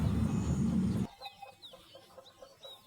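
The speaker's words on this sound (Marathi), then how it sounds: "पक्षी आपले पूर्ण शेडमध्ये गेले आहे आणि त्यांचा किलबिलाट तुम्ही पाहू शकता" A burst of loud noise cuts off, leaving many free-range country chickens softly clucking and chattering at a distance inside a poultry shed in the evening, with occasional higher calls.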